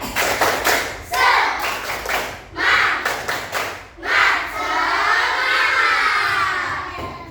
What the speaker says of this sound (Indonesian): coba Bunda mau dengar kalian tepuk semangat dulu. Tepuk semangat